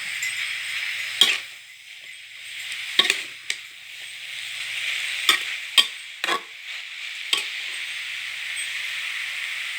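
Rice noodles and vegetables stir-fried in a pan give a steady sizzling hiss, with several sharp scraping and clanking strokes from the spatula at uneven intervals and no talking.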